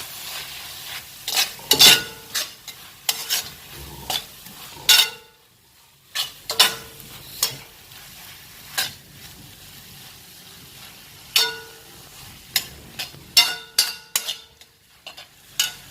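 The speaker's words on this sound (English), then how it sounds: "Now I'll add chili powder and" Spices and chili powder sautéing in a pan: a faint sizzle beneath repeated sharp clinks and scrapes of a spoon stirring against the pan, coming in irregular bursts.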